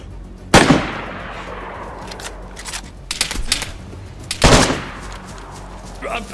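Gunshots in the survival game DayZ, two loud sharp cracks about four seconds apart with a few softer pops and rustling between them.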